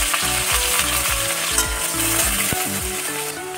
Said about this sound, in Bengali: আলুটা আমার একটু ভাজা ভাজা হয়ে এসছে